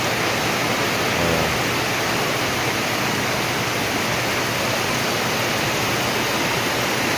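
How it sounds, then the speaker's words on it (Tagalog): Strong rain growing heavier falls in a loud, unbroken rush, a thick steady wash of sound with no talking. "Lakas ng ulan, lumakas."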